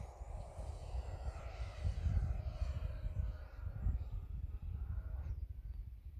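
An E-flite F-16 Falcon 80mm RC jet at full throttle gives a loud, rising electric ducted-fan roar that swells and recedes as it climbs, with someone talking over it outdoors.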